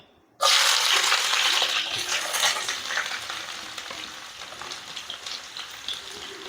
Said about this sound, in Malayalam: അപ്പോൾ നമ്മുടെ എണ്ണ നന്നായിട്ട് ചൂടായി വന്നിട്ടുണ്ട്. ഇതിലോട്ട് 2 മീഡിയം സൈസ് വലിയ ഉള്ളിയാണ് കേട്ടോ.